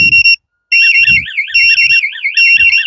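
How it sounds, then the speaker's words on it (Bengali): A motorcycle anti-theft security alarm blares close and loud in electronic tones, first a steady beep that breaks off briefly, then a warbling siren-like pattern, with low thumps between the tones. "এই দেখেন বাইকে অ্যালার্ম বাজবে, আমার রিমোটে অ্যালার্ম বাজবে"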